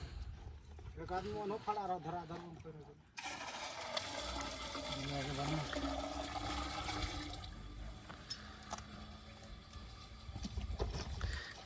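Rushing, splashing water pours steadily from a water pump for several seconds after a brief stretch of talk, with voices and a low mechanical rumble beneath.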